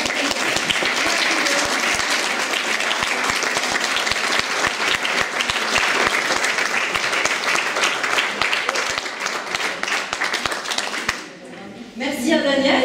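Sustained audience applause in a hall after a children's show in Villennes, dense and loud, fading out near the end as a voice speaks.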